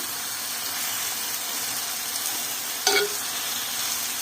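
Gongura leaves sautéed with rock salt in a pan for chutney give a steady, close sizzle, with one short spatula scrape against the pan near the end.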